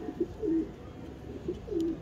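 An old blood breed pigeon coos nearby, two soft, low rolling coos with a short pause between them, alone over faint background hum.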